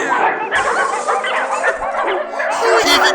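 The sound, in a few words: dogs barking in a video game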